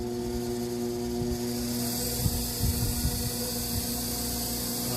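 A Lapmaster Wolters model 12 lapping and polishing machine runs steadily, a constant mechanical hum with tonal whine and faint rattling clicks from its moving parts.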